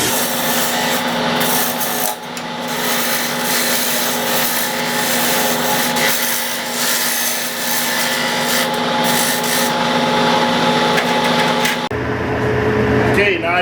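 A gouge cuts into a wood cylinder spinning on a lathe, making a continuous loud rasping scrape over the steady hum of the lathe, with a shift in tone near the end.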